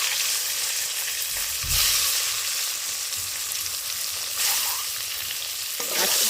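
Eggs fry in oil with turmeric and salt, making a loud, steady sizzle close by. A few brief stirring scrapes and swells break into it.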